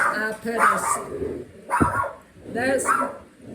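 A dog barks at a clothes dryer in short bursts close by, with a person talking over and between the barks.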